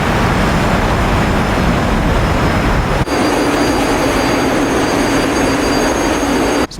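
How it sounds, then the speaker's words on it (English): A 1940s–50s jet fighter in the DCS flight simulator roars at full afterburner during a climbing bomber intercept. The thrust is loud and steady, with a brief dip and a change in tone partway through. "Look at Simba and his afterburner"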